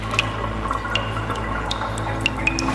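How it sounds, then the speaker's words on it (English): Water drips in an underground city drainage tunnel, scattered sharp plinks at irregular intervals over a constant low mechanical hum. "In certain tunnels, water flows in from the city's drainage system"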